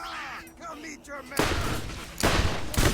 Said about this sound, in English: This damn pistol.